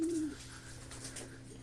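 A racing pigeon gives a single soft coo near the start, faint and close, followed by quiet ambient hum.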